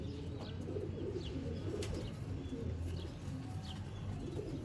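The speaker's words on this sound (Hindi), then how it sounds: "ये होते हैं जी सियालकोटी कबूतर।" Sialkoti pigeons coo in low, soft rumbles with a few brief chirps from other birds, set against quiet background noise.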